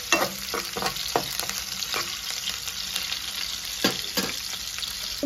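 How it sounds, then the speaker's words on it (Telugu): Ivy gourd curry sizzling steadily in a pan while a utensil stirs it, with irregular scraping knocks against the pan over the continuous close frying hiss. "ఫ్రై చేసుకోవాలి. అటు ఇటు కలుపుకోవాలి."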